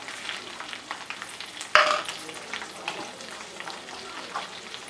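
Coriander seeds sizzle and crackle softly in a hot pan for a tomato, coriander and coconut chutney, a steady low frying hiss with one sharper pop partway through, no talking.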